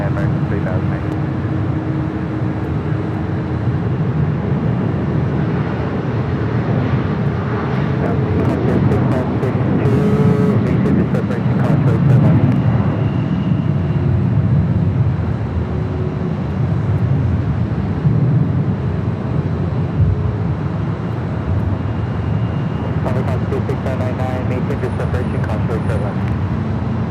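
Jet airliner arriving at Los Angeles LAX, a broad sustained engine roar holding steady near and loud, with a voice talking over it and brief crackling bursts.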